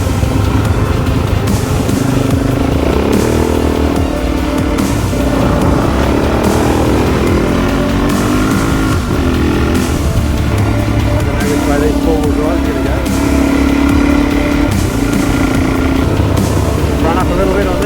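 A Suzuki DRZ400 dirt bike riding along hard-packed beach sand, a steady loud engine drone with wind rush throughout and small rises and dips in revs, while a rider talks over it.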